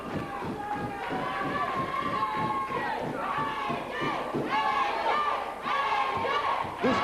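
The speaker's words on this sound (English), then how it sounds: "This crowd wants nothing more than to see AJ Styles make that tag" A crowd at an NWA tag-team wrestling match roars and cheers continuously, with surges and thumps, while a commentator talks loudly over the noise.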